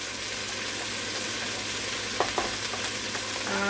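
Chopped onion sizzling in a pan at the start of a fresh tomato sauce, a steady hiss of frying with a couple of faint clicks and a brief clatter near the end, no voices.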